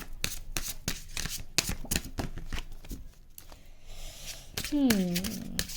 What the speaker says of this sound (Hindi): सो नाउ एक कार्ड मैं इस डेक से पुल करूँगी, जो कि है mystical wisdom, the beautiful deck.